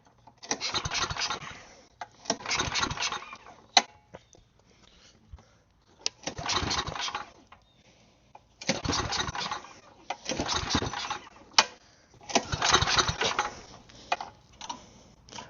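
A snowblower engine with a starting problem is cranked again and again, giving about six separate sputtering, rattling bursts, each a second or so long, with brief quiet gaps between them.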